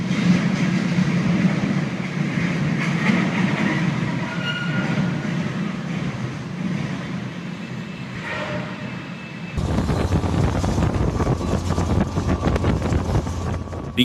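A train rolls steadily past on the railway, a continuous rumbling and clattering roar that stays loud throughout and grows brighter and harsher near the end as the cars pass closest.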